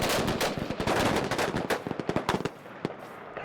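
A Marine rifle platoon fires live weapons in a rapid, ragged fusillade of sharp cracks, dense at first, then thinning into scattered separate shots before a final isolated report.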